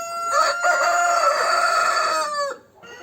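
A rooster crows loudly and close, one long drawn-out call that cuts off abruptly near the end.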